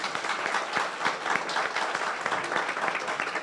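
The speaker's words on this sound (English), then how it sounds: "A round of applause for our pitching people." A plenary conference audience during research week gives a round of applause for the pitchers, many hands clapping in a continuous, even patter with some sharper individual claps standing out, moderately distant and without speech.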